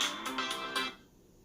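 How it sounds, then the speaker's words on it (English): A mobile phone ringtone chimes briefly in a short repeating melodic pattern of bright tones, about four pulses, then cuts off into quiet. "my fault. That's my phone."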